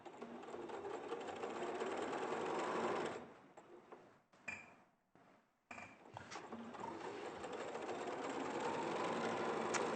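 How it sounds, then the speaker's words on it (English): A sewing machine stitches quilt pieces together, a steady close mechanical whirring that pauses briefly midway with a few short bursts before resuming its continuous run. "you just got to sew the twos and twos and twos together."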